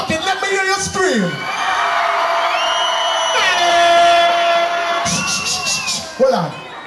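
A concert crowd screams and cheers in long sustained waves of high shrieks and whoops, loud and massed, broken briefly by a voice on the mic.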